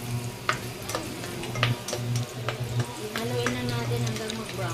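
Garlic sautés in hot oil for ginisang upo with sardines, giving off a continuous close sizzle broken by occasional scraping stirs, with a low background hum underneath.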